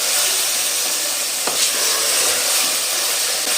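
Aloo methi, potato and fenugreek leaves, frying in a pan with a steady, close sizzling hiss that holds throughout, broken once by a brief faint scrape.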